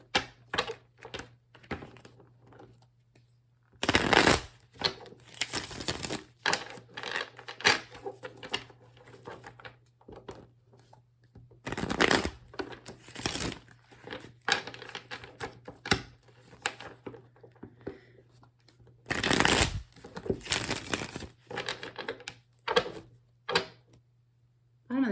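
A steampunk tarot deck is shuffled in three loud bursts of rapid riffling card clicks. Lighter taps and handling of the cards fill the quieter stretches between bursts.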